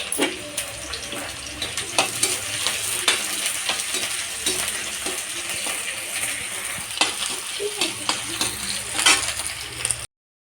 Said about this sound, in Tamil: சூடானோடனே வெங்காயம் போட்டுக்கலாம்.